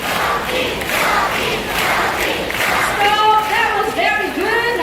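A crowd at a bird park show in Singapore claps and chants the name of a scarlet macaw, loud massed voices rising in repeated calls over a continuous rush of clapping.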